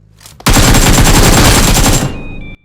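A rapid, loud burst of automatic gunfire in the mobile battle game BGMI, played on an iPhone 13 Pro, runs close and unbroken for about a second and a half before cutting off.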